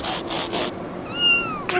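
A kitten in a video game lets out several short meows in quick succession, fairly close and clear, with no voices over them.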